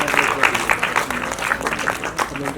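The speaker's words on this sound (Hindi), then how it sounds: "जोरदार तालियां बच्चों।" Children clap together at a charity foundation event, with dense, continuous applause of many small hands. Voices mix faintly into the clapping.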